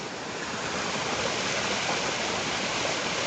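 River water rushes over rocks at Kbal Spean near Siem Reap, a close, steady hiss of flowing current that continues without a break.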